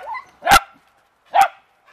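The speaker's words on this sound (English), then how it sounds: "He'll bark at the leaves." A beagle outdoors by wet, dripping leaves gives two sharp, loud barks close by, about a second apart, with near silence between them and no talking.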